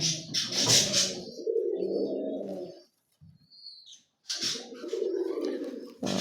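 An Australian dove chick, fairly well grown, gives close rough calls in two bursts separated by a near-silent pause, with brief soft sounds in between.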